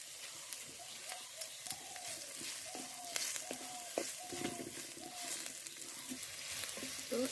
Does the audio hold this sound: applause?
no